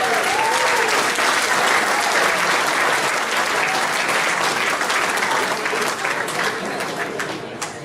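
Audience applause at the Wyong Regional Chamber of Commerce Awards 2011 for the award-winning Wyong Neighbourhood Centre: a steady, dense crowd clapping that holds loud for about eight seconds, easing slightly near the end, with faint voices mixed in.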